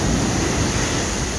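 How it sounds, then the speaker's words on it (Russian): Rough sea surf washes onto a Japanese shore on an October day as a continuous, loud roar of breaking waves, with no voices. "Вот, сегодня прибой такой был."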